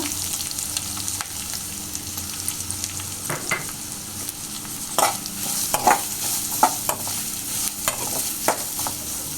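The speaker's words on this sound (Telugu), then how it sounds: "ఇప్పుడు మనము ఉల్లిగడ్డలు వేస్తున్నాము." Onions fry and sizzle in a pan for an egg curry, stirred with repeated scraping and tapping strokes of a spoon that grow more frequent toward the end, close and clear without talk.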